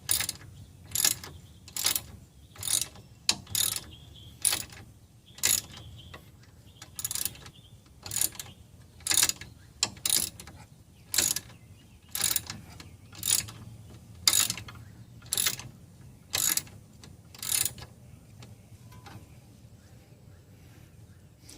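An Allen wrench and a socket worked on a sway bar link of a Mk5 Volkswagen Rabbit, Jetta or GTI: a steady run of sharp ratchet clicks in repeated bursts, about twenty in all, close up with a low hum underneath.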